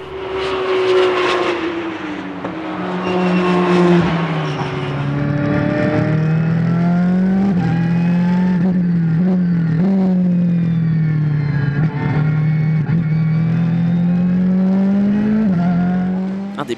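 Ferrari and Porsche race cars battle at the Anneau du Rhin circuit, engines roaring loud and close in a continuous sustained drone, pitch rising and dipping as they accelerate and shift.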